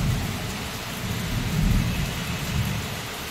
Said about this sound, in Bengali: আর কীরকম মেঘ ডাকছে শুধু শোনো।